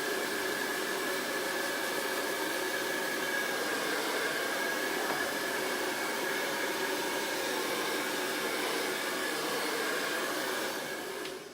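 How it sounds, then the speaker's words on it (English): A blow dryer on its cold setting blows steadily on a craft project, a continuous broadband airy rush with a faint whine, near and loud, running alone without talk for about eleven seconds before easing at the end. "I'm going to hit this with a blow dryer"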